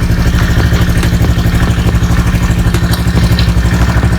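A Honda Scoopy scooter engine revving steadily after a mixture screw adjustment, close and loud, with a fast even clattering pulse and no talk.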